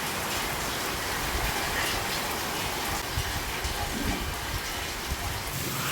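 The first heavy downpour of the rainy season pours down in a steady, dense hiss of rain striking surfaces. It sounds loud and continuous throughout, with no talking.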